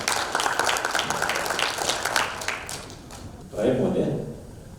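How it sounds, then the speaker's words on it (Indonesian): Guests at an 80th birthday thanksgiving gathering clap together in a moderate, close burst of applause that fades after a few seconds, followed by people talking. "Tepuk tangan dulu."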